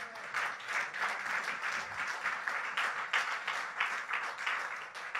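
A church congregation applauds steadily for several seconds, a dense sustained wash of clapping from many hands with no speech on top.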